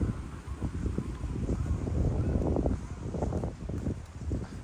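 Strong wind gusts through Kinuta Park in Tokyo, buffeting the microphone with a loud, rumbling low roar that swells and eases in waves across the whole stretch.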